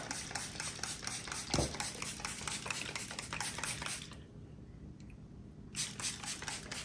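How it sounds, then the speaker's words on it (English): A spray bottle mists water onto seeds indoors in a fast string of short, close pumps, then pauses briefly before a few more squirts, with no talking. "I am just going to come in and spray a little bit on top"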